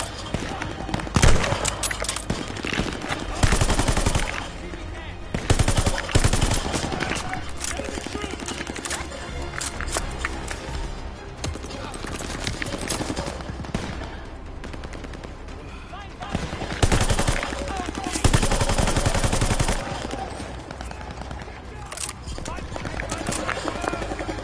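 Bursts of automatic machine-gun fire crackle through a chaotic war video game battle, with repeated rapid volleys and booming impacts filling the scene alongside shouted voices.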